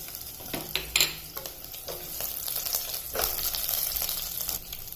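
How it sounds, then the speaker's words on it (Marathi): Seven or eight garlic cloves and green chilies fry in oil, making a continuous close sizzle and hiss broken by a few scraping stirs, fairly quiet and with no talking. "तेलामध्ये टाकते सात ते आठ लसणाच्या पाकळ्या लसण छान परतवून घ्यायचा थोडासा गोल्डन होऊ द्यायचा"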